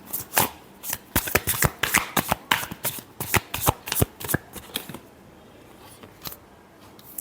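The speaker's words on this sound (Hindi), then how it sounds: "Last shuffle." A deck of tarot cards is shuffled close up in a quick, loud flurry of riffling slaps and flutters for several seconds, then trails off into quiet room tone with no talking.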